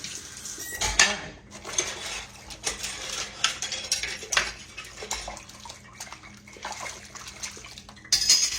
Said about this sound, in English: Y'all hand wash your dishes.